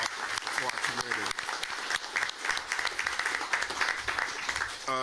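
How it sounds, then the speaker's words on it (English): Moderate applause from an audience at a military community information meeting honoring volunteers, steady clapping with a few louder claps and a brief voice at the end. "let's give a round of applause for our volunteers"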